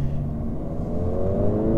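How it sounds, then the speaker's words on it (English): A Volkswagen Golf's engine revs nearby in traffic, a steady mechanical drone that climbs gradually in pitch for a couple of seconds, with no voices. "Oh, that Golf sounds cool."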